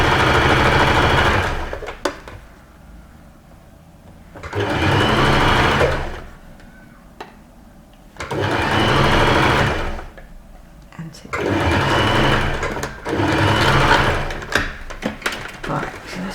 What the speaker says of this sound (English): So I'm just over sewing there where we were before, and same seam allowance.